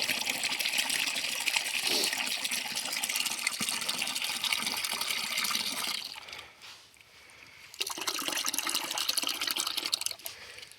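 Water gushing and splashing steadily as a fungicide solution is mixed into 5 liters of cold tap water for spraying strawberries in spring, pausing briefly before resuming.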